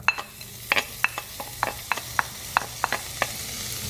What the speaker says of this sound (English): next we're going to be cooking some white onion and a little bit of garlic